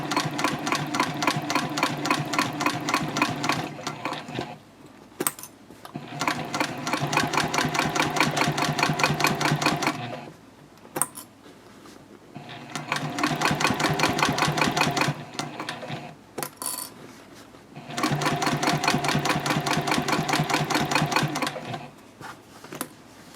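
A sewing machine stitches a Swoon Betty Bowler bag in four long, loud bursts of rapid needle clatter, each separated by short pauses with faint handling clicks.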